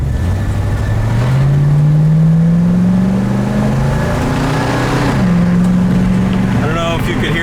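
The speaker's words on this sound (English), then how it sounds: "just a really, really nice firm shift from first to second" A 1966 Ford Mustang drives past close and loud, its engine rising steadily in pitch as it accelerates in first gear, then dropping briefly at the shift into second before pulling on, with a voice talking over it.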